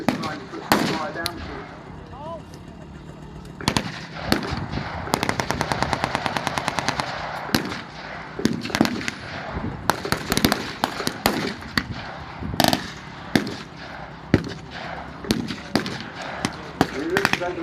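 Bursts of machine-gun fire and sharp gunshots at a WW2 Africa battle re-enactment with mortar fire, close and loud, in rapid rattling strings and scattered single cracks, while someone talks between the shots.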